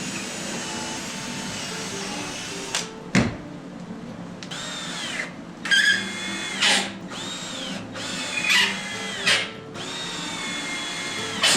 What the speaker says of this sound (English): We can put our pilot holes in there and put some long screws in.